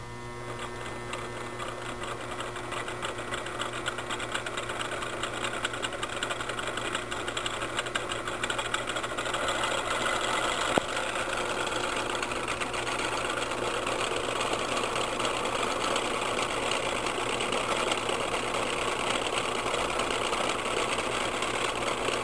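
A three-phase AC induction motor runs with a steady mechanical hum and whir, loud and continuous, with one brief click partway through.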